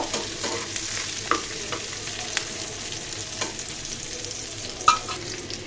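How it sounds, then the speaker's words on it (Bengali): Onion and garlic sizzle softly in oil, frying until browned for a jackfruit seed mash, a constant close hiss broken by a few sharp clinks and scrapes of a spatula against the pan. "দিয়ে আমি সুন্দর মতো ভেজে নিচ্ছি, দেখতে পাচ্ছ, লাল লাল করে ভেজে নিব।"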